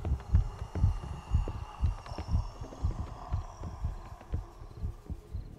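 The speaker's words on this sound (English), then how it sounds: "You hear the heartbeat. Hear the heartbeat." Heartbeat from the horror video game Paranormal Cleanup: Stafford Ln., a steady, muffled double thump repeating about twice a second over a low hum, with no talking.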